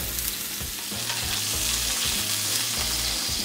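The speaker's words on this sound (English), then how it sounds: "our steaks have seared on both sides" Beef tenderloin steaks sear in a pan with butter, giving a loud, continuous close sizzle broken by a few stirring and scraping pulses, with no talk over it.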